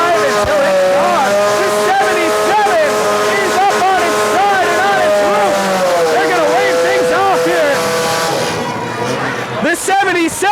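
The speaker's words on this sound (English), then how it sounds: "Hog Wild revving his car so loud you can't hear yourself think." A demolition derby car, number 77, revving its engine hard at a county field days arena, a loud sustained roar with rising and falling pitch under an announcer's continuous commentary.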